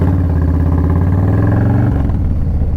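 A Harley-Davidson motorcycle with a 131ci Stage 4 engine runs loud and close, its deep lumpy idle pulsing steadily before the rhythm shifts and drops slightly near the end.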